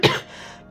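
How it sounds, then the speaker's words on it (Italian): A single short, close cough bursts out and fades quickly into quiet. "ho un po' di tosse"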